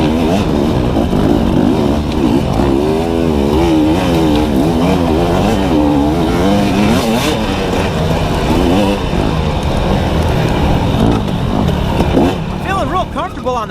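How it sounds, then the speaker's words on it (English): Dirt bike engine revving hard through a wooded off-road course during a pro GNCC race at Tomahawk, a loud continuous wavering drone with pitch rising and falling as the rider accelerates, close up and constant throughout. "On the bike now, and I'm starting to get moving pretty good."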